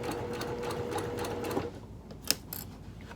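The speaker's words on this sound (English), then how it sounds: "go take this over to my machine and sew these together" A sewing machine stitches a bag flap slowly with a steady whirring hum and rapid needle ticking, then stops, followed by a couple of light clicks.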